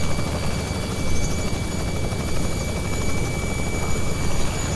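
A Robinson R66 turbine helicopter drones steadily and loudly throughout, its rotor thrum and engine whine filling the whole stretch with no pauses.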